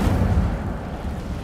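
The Incendio fire spell goes off in Hogwarts Legacy as a short, heavy whooshing burst with a deep low-end thump that fades quickly.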